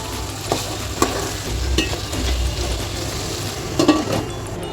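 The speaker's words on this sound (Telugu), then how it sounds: "అలాగే పక్కన వెజిటేబుల్స్ అయితే కుక్ అవుతున్నాయండి" Vegetables for a veg dum biryani cook in a pan with a steady close sizzle and frying hiss, with occasional stirring knocks and scrapes running throughout, no voices.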